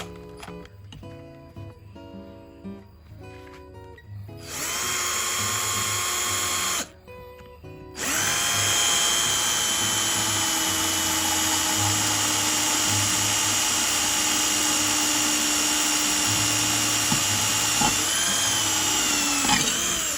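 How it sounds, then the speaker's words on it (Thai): Some faint clicking and handling sounds, then a Hory 198V cordless drill whirs loudly, pauses briefly, and runs again in a long steady high-pitched drilling stretch. "เดี๋ยวผมจะทดสอบเจาะให้ดูนะครับ"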